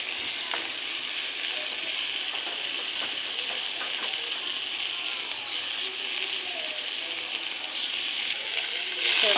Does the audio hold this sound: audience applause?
no